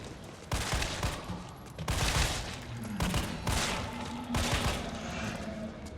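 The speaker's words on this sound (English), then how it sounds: "the burst pistol doesn't actually always burst" Burst pistol firing in Resident Evil 3 on PS5, several short clusters of shots spaced a second or so apart, fairly quiet and repeated irregularly across the stretch.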